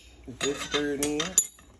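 A metal spoon stirs Sazón seasoning into a pot of pinto beans, several close, ringing scrapes and clinks against the pot's sides ending in a sharper knock, with nobody speaking.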